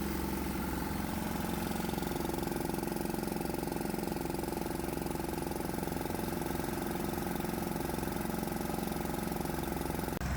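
A 196 cc 3 hp diesel engine fed with vaporized water from a bucket vaporizer runs at a steady, even idle, a continuous close throbbing drone with no voices over it.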